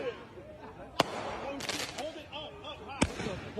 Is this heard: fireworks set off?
yes